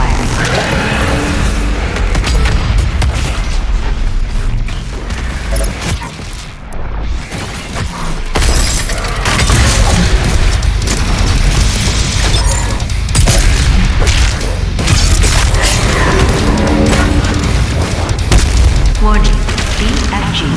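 BFG 10,000 firing in Doom Eternal: dense, loud booming blasts and rumbling explosions that run almost unbroken, with a brief dip midway and a voice announcing over the barrage.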